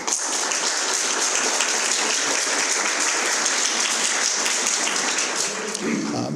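Steady, dense applause from a lecture audience honoring Professor Arlene Sanders, a local organizer, filling the room evenly for several seconds without letting up, with no one speaking over it.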